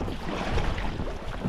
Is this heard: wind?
yes